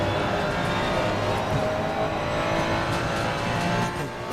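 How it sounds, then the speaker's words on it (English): A McLaren race car's engine roars steadily and loudly through a passing moment at Suzuka in Assetto Corsa Competizione, a dense, sustained drone that holds level before easing slightly at the end. "I could barely hear my own engine over that car."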